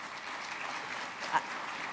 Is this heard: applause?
yes